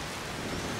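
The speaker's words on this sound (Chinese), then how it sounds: "天气越来越冷，就下雨，对不对？" Steady rain in the video game A Plague Tale: Requiem, a dense, even hiss with no other sounds over the brief stretch.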